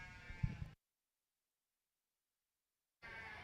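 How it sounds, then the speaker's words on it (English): A single white Dorper ewe lets out a short bleat in the show ring, close and clear, followed by a long silence and then a return of faint background noise. "We now have your 2-tooth white Dorper ewes in the ring."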